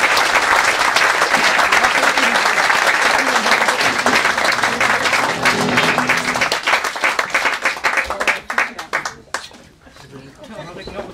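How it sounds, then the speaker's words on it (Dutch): A crowd at a royal honour ceremony for the Order of Orange-Nassau in Mill, Netherlands, bursts into loud, dense applause that carries on for several seconds before breaking into scattered individual claps and fading. "Graag jullie applaus."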